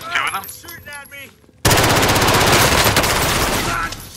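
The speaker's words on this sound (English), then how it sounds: "Two of them. Shooting at me." Sustained automatic gunfire from a video game shooter bursts in loudly after a short stretch of quiet talk, rapid shots continuing densely to the end.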